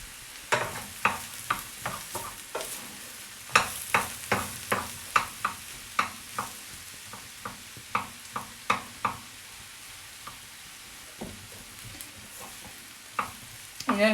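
Onions fry in butter in a pan under soft sizzling while a utensil stirs them, giving a steady run of sharp scraping clicks that slows and thins out toward the end.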